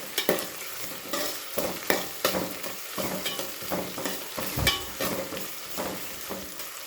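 Onions frying with salt in a pan, a continuous crackling sizzle punctuated by frequent utensil scrapes and knocks as they are stirred, close up with no talking.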